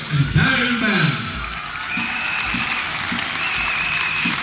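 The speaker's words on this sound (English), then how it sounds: "another cheer for Boris and Karen Mann" At a children's fair, a crowd applauds and cheers in a dense burst of clapping that tails off into scattered claps, with a voice speaking over the noise.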